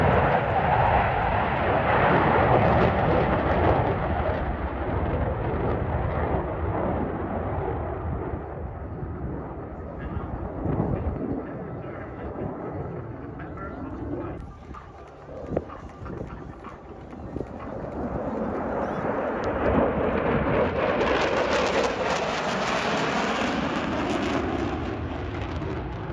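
Jet aircraft at an airshow flying past with afterburner lit, a loud broad roar that fades mid-pass and then swells again, continuous and distant-to-near, no talk.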